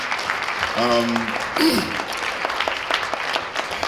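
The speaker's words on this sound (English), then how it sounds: "a round of applause for Renee Elise Goldsberry" Audience applause at a Q&A for the film Waves, a steady wash of clapping from a crowd throughout, with a voice speaking briefly over it near the start.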